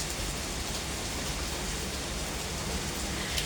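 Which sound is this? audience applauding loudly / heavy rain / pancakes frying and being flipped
heavy rain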